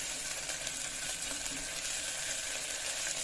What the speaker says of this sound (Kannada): ಶುಂಠಿ ಬೆಳ್ಳುಳ್ಳಿ ಪೇಸ್ಟ್ ಫ್ರೈ ಮಾಡ್ತೀವಿ ಹೋಗಬೇಕು ಅಲ್ಲಿ ತನಕ ಫ್ರೈ ಮಾಡ್ಕೊಳ್ಳಿ